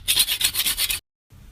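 Close, loud rhythmic rasping of a hand saw flush cutting oak dowels driven into brick, about nine quick strokes in a steady rhythm, then a sudden stop and faint room noise.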